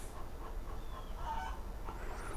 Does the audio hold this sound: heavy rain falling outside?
no